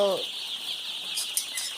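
Young Sonali chicks and hens in a brooding pen give off a continuous high-pitched peeping chorus, fairly faint and close, after a brief voice at the very start.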